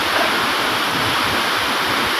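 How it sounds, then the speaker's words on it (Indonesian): Inggoi waterfall pours in a steady, dense broadband roar, loud and close, unbroken throughout with no voices. "Tunggu, air terjun."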